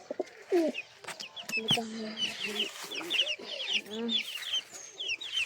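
Pigeons calling close by, a busy mix of overlapping coos and short throaty notes with brief wing flutters, lively and uneven over several seconds.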